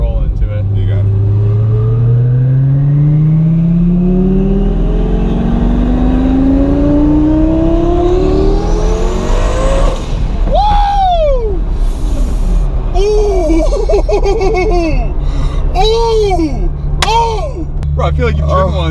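A Mercedes C300 pulls away in second gear, its engine note climbing steadily as it accelerates, then easing through shifts, with loud in-cabin road and engine sound and people talking over it.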